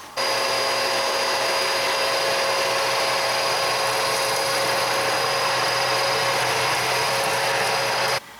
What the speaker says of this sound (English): So I'm gonna clean all that stuff up with a vacuum cleaner next.